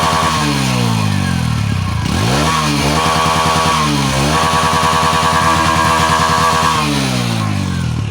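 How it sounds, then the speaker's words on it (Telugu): A TVS Radeon BS6 motorcycle engine idles steadily, then is revved several times, with the exhaust note rising and falling. It sounds close and fairly loud, with no talking. "దీని ఎగ్జాస్ట్ నోట్ వినిపిస్తాను."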